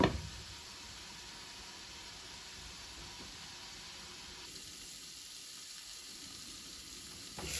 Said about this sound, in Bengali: ঢাকনা দিয়ে সবজিটা আমি এখন পাঁচ থেকে সাত মিনিট রান্না করে নিব